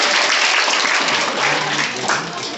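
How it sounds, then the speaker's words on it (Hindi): Loud, dense applause from a school assembly cheering a winning house team at an Earth Day house competition, continuous clapping filling the moment with a faint voice underneath. "इनके लिए भी जोरदार तालियां"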